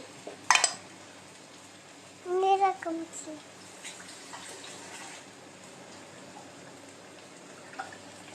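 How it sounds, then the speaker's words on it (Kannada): Water is poured into a cooking pan of fried chicken with salt and spices, a brief splashing gurgle after a clatter, then quieter kitchen sounds with faint voices in the background. "ಸ್ವಲ್ಪ ನೀರು ಹಾಕಿ,"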